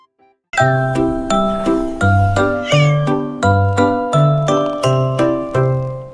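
A cat meows repeatedly and rhythmically, set to a cheerful French nursery rhyme tune with bright jingling, tinkling bell notes, about ten evenly spaced meows up close with no voices.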